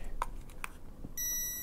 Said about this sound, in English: it'll now beep low on the 12 volt 2 rail because it's missing